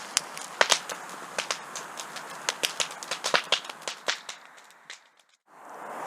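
Christmas trees burn on an allotment bonfire in December with sharp, irregular pops and snaps over a soft rushing background, the crackles coming in quick clusters before fading to near quiet at the end.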